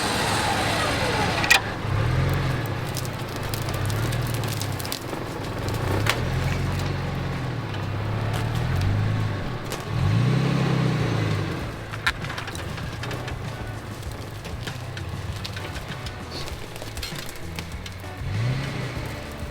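A car spins and revs in repeated rising-and-falling engine surges while trying to drive out during a vehicle recovery, with people talking intermittently over the engine.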